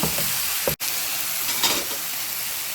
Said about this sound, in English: And then you mix it very well.